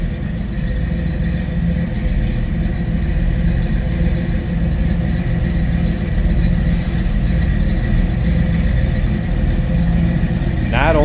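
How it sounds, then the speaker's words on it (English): 1962 Chevrolet Corvette convertible with a 327 engine and Carter 4-barrel idling, a loud, deep, steady rumble from the exhaust that holds even for the whole stretch with no talk. "Nice, deep, throaty exhaust note."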